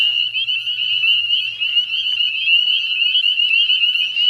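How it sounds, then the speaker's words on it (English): A dense chorus of spring peeper frogs calls outdoors on a spring night, a loud continuous shrill peeping that pulses slightly as countless calls overlap, with a faint low rumble underneath and no voices. "there's about thousands of peepers out there"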